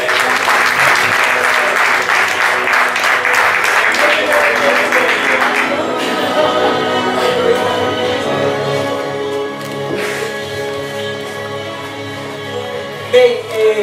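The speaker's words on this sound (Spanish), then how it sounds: "Aplauso, por favor." At a cycling team presentation, a crowd applauds loudly for about six seconds, then the clapping fades into lingering room noise and a few isolated claps.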